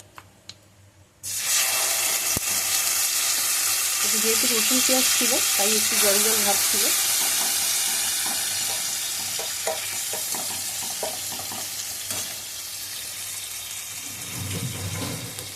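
Marinated prawns hit hot oil in a pan with a sudden loud burst of sizzling that settles into a steady crackling hiss with occasional stirring clatter, while someone speaks over it partway through.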